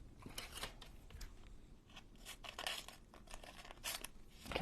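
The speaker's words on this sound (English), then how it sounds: "I'm going to try to cut it kind of to size first. Just a little bit bigger. I'm just going to cut this off." Scissors snip through paper for a junk journal, a quiet, close series of irregular crisp cuts and rustles with brief pauses between strokes and no speech.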